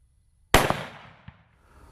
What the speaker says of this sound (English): Today I'm shooting outside to demonstrate recoil.